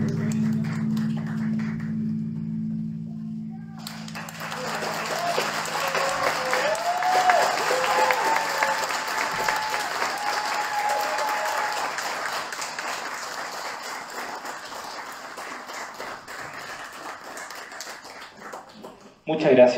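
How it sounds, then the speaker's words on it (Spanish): A school audience breaks into steady, sustained clapping after a brief held musical tone, the applause staying dense for over ten seconds with some voices mixed in before it slowly thins out. "Muchas gracias por esos aplausos"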